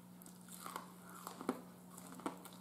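Crisp crunches from biting fresh sweet corn on the cob come close to the mic, several bites at irregular intervals over a faint steady hum, with no talking.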